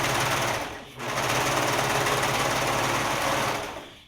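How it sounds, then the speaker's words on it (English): A Brother serger sewing machine runs fast and loud with a dense, rapid mechanical whir, pausing briefly near the start and then stitching steadily until it winds down at the end. "If you don't have a serger, I highly recommend it."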